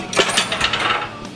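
An axle is pushed through a wheel bearing in a press: a brief, dense metallic grinding and creaking rasp, close and fairly loud, with no voices.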